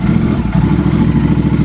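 A Royal Enfield GT650 motorcycle with an aftermarket exhaust rumbles steadily with a deep, throbbing exhaust note, close and loud, pulsing rhythmically without pause.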